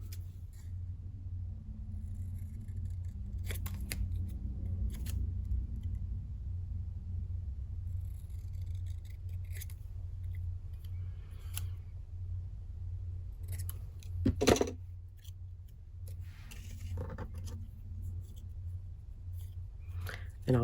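Scissors snip through paper or card while a hardbound journal cover is trimmed, a few quick close cuts over a low steady rumble, with a sharper cluster of snips near the end and soft talking in the background.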